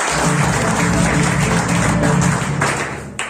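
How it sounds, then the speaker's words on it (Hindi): Sustained applause from a seminar audience at a business income presentation, a dense steady wash of clapping that fades near the end. "इसके लिए एक बार जोरदार ताली।"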